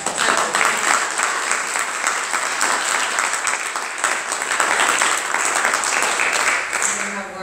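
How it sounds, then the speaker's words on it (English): A large church crowd at a jazz event applauds steadily for several seconds, a dense, sustained patter of clapping with some voices mixed in. "Give another round of applause."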